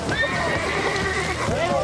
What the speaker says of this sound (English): A horse falls through a frozen pond in Iowa and now fights for his life.